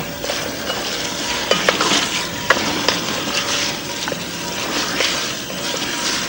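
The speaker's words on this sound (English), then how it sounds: "And we just let that sweat down for a second or two so they take on a bit of colour." Soft, steady sizzling of garlic sweating in a pan with occasional stirring scrapes and light clinks, close and continuous.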